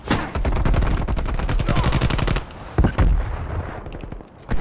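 Rapid automatic gunfire in Call of Duty: Cold War, a close, loud stream of evenly spaced shots for about two seconds, then a few heavier isolated bangs and scattered shots.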